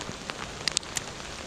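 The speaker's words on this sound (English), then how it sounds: "Rain is starting to come down a little more heavier." Rain falling at a trout creek, a steady soft patter with a few sharper drops landing close by.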